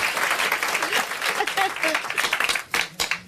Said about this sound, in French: vous pouvez rire, vous pouvez applaudir